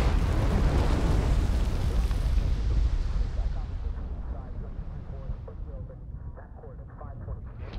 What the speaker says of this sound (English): thousands of well-armed Japanese troops, concealed in caves and bunkers, are unleashing artillery concentrations unlike anything yet experienced in the Pacific War.